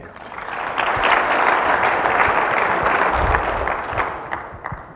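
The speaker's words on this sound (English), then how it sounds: "So please help me welcome Dr. Elmore." Conference audience at a wildlife and fire summit breaking into applause to welcome a speaker, a dense, steady wash of clapping from many hands that swells quickly and then tapers off over a few seconds.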